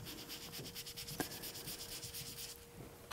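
A scouring pad sponge rubs ink around the edge of a stamped image, a faint, steady scratchy rubbing with small repeated strokes and one sharper scrape partway through.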